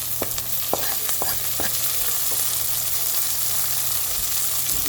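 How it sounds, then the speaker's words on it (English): Onions, chilies, spring onion, mint and coriander frying in a pan while fried rice is made, with a steady close sizzle throughout and a few sharp stirring clicks near the start. "Let them nicely fry for a bit."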